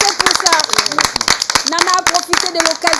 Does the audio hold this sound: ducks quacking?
no